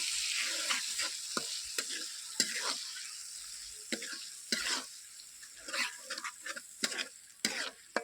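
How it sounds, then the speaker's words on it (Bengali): Rui fish with spices and ground pepper paste is sautéed in a pan, a spoon scraping in irregular strokes over a steady soft sizzle of frying oil, close and moderately quiet. "ভালো করে কষিয়ে নিতে হবে।"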